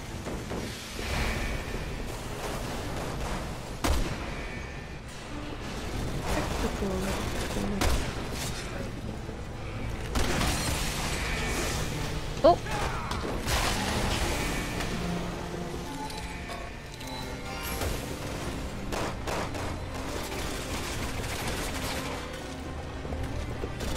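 Rapid bursts of gunfire from the Resident Evil 6 co-op video game crackle over a busy mix of explosions and game effects, loud and near, repeating throughout in irregular volleys.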